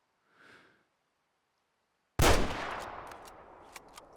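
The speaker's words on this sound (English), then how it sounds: "I shot him with the 375." A single loud .375 rifle shot in the Way Of The Hunter hunting game, a sharp crack after near silence and a faint earlier breath, followed by a long decaying echo.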